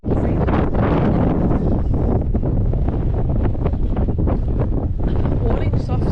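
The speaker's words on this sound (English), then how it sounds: "just very windy" Strong wind buffets the microphone in loud, low rumbling gusts at a beach in North Wales, steady throughout with no pause.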